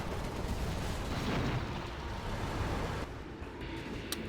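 A scud launcher firing in the Crossout vehicle combat game, a dense, continuous roaring rumble of launches and blasts that holds loud for about three seconds, then eases slightly, with a brief sharp crack near the end.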